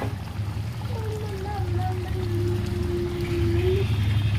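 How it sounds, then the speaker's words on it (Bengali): Raw mustard oil poured into a simmering prawn curry in a pan near the end of cooking, a steady trickling pour over a low bubbling hum, with a faint voice briefly audible. "বেশ খানিকটা কাঁচা তেল দিচ্ছি"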